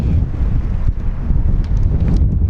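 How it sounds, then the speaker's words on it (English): Strong gusty wind on an overlanding trip through Utah and Arizona, roaring and buffeting the microphone with a constant low rumble and no voices. "but it's really windy."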